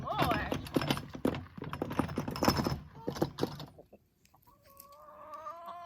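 Backyard chickens clucking and calling in a pumpkin patch being prepped, the hens loud and close at first over some talking and rustling, then a quieter stretch of thinner clucks toward the end.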